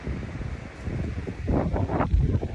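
Steady wind rushes and buffets against the microphone outdoors on a beach in Palawan in the morning, with rustling gusts swelling toward the end.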